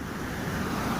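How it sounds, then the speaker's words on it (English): The flooded Albert Falls river rushes over an overflowing dam wall, a dense, steady roar of churning water heard from a short distance, unbroken and alone. "The dam wall is absolutely overflowing"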